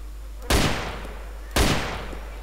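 Two loud, close gunshots ring out about a second apart in the video game DayZ, each a sharp crack trailing into a fading echo, no talk over them.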